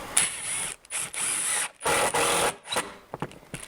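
A screw is driven into wooden exterior window trim fitted over styrofoam insulation, a power driver whirring in several short bursts with brief pauses between, close and fairly loud, with no talking.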